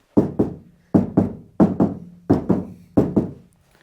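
Knuckles rap on the metal door panel of a 1980 Dodge W200 truck in five paired double knocks, each a sharp close thud with a short dull ring, evenly spaced and alone.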